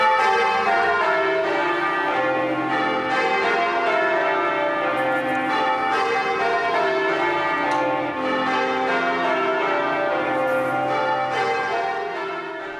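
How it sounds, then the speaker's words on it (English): Church bells rung by rope in a London church peal continuously and loudly, overlapping strikes forming a rich, ringing wash of tones with no voices. "London's church bells have called people to worship for hundreds of years."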